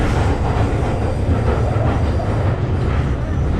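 Heavy, continuous roar of a London Underground Northern Line train in motion, a dense low rumble with rattling and clatter, loud and close, no voices.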